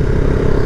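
A Husqvarna Vitpilen 701 motorcycle with a single-cylinder engine, six-speed gearbox with quickshifter and A2 restriction to 47.5 hp, accelerating in a brief, loud, close engine roar.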